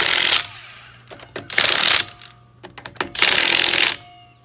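Impact wrench or power driver running lug nuts onto an RV trailer wheel, three loud bursts of whirring and rattling, each about a second long, with brief clicks and handling noise between them.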